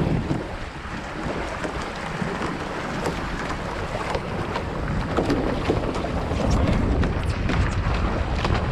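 Gusty wind rushes past an iFLY15 foiling sailboat out on the water, giving a steady broadband roar with gust buffeting and splashing, and no talking over it.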